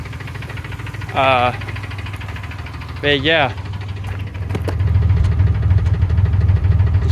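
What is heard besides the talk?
car engine running with misfire ticking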